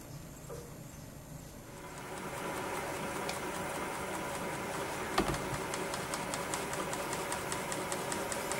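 A wood lathe turns steadily at about 300 RPM while cut-and-shine polish is applied to an apple wood pen on metal bushings, producing a constant close-up whir with faint rhythmic ticking and one brief knock.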